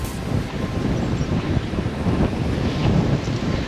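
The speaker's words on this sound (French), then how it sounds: "désolé pour le vent" Steady, heavy wind buffeting the microphone outdoors by the Gardon river near the Pont du Gard, a constant low rumbling roar with no other sounds standing out.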